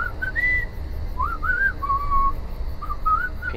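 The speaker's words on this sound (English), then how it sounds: "Can you stop whistling?" A character in the video game The Walking Dead: The Final Season whistles a casual meandering tune, clear and close, in short phrases with pauses over a low background hum.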